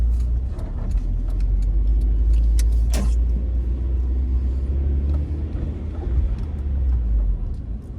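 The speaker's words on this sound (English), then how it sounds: "Oh, that car came out of nowhere." A car passes along a city street in Philadelphia's Carroll Park neighborhood, a steady loud road rumble and engine drone that swells and lingers for several seconds, close by, with brief clinks on top.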